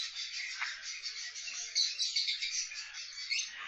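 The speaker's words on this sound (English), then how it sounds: "Speak for the camera, bird." Small caged birds in a pet store chirp and tweet continuously in bright, overlapping calls, fairly close and moderately loud, with a few sharper peaks of chatter and no talking.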